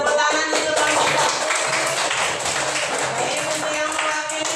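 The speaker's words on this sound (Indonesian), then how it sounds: "Beri tepuk tangan untuk kelompok 1." A classroom audience claps steadily for a winning student group at a teacher-training session, the dense, continuous applause filling the whole stretch with a few voices mixed underneath.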